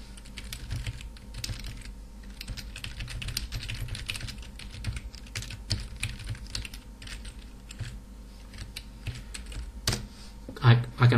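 Keys on a computer keyboard are tapped in quick irregular bursts, close and fairly quiet, while someone types a comment into driver configuration code for a development board.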